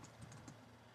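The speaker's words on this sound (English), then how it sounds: "So I'll start typing" Quiet typing on a computer keyboard while entering text in Photoshop, a run of soft, evenly spaced key clicks in a still room, with no talk.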